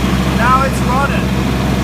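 A tractor runs steadily with its PTO shaft engaged, driving a bush hog rotary mower; a low, continuous engine drone holds throughout, with a person talking over it.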